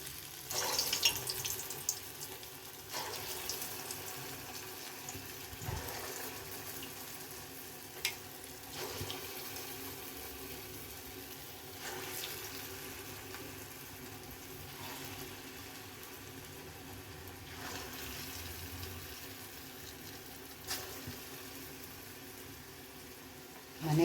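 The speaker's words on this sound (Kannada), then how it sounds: "ಎಣ್ಣೆ ಕಾಯ್ಬೇಕು ಎಣ್ಣೆ ಇದು ಈಗ ಹಾಕೊಳ್ಳೋಣ ನಾನು ಬೋಂಡ ಮಾಡ್ತಾ ಇರೋದು" Urad dal bonda batter frying in hot oil, a steady faint sizzle and bubbling throughout with soft clinks now and then, no voices.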